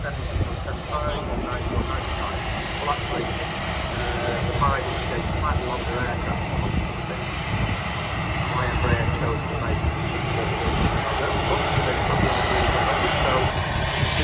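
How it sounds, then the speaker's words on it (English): An EasyJet Airbus A320 jet airliner arriving from Geneva at Manchester, a loud, steady engine roar that holds for the whole stretch, with a voice speaking over it. "here we have an EasyJet A320 coming from Geneva"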